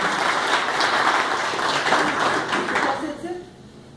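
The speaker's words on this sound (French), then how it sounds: "Annie Sanson, sous vos applaudissements." An audience applauds at a Moroccan cultural days event in Canada, a dense wash of clapping that holds steady for about three seconds and then fades out.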